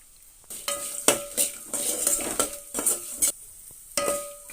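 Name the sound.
stirring and frying poha mixture ingredients in pan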